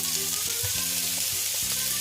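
Chopped onion sizzles in a hot pan, a loud, close crackle and hiss with a few knocks and stirring bumps underneath, and no voices.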